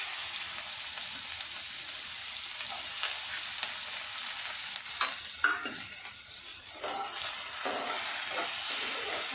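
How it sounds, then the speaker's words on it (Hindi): Onions frying in a little oil with star anise, cumin, cinnamon and dried red chilies for a cabbage egg curry, giving a dense, even crackling sizzle, with a few sharper stirring scrapes near the middle and no talking. "और इसे अच्छी तरह से फ्राई करना, ज़्यादा तेल नहीं डालना है"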